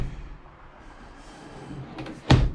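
Full-extension kitchen drawer with a built-in divider in a 2019 Shockwave 24QSGMX toy hauler trailer with hardwood cabinets, faint sliding rumble ending in one sharp close thump near the end.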